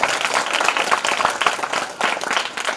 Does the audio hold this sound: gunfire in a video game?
no